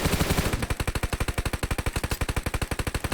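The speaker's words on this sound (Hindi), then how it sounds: "तो वो उधर से फायर करता है।" Enemy gunfire in PUBG Mobile, a long run of rapid, evenly spaced automatic shots, loud and punchy, continuing steadily for about three seconds with no speech.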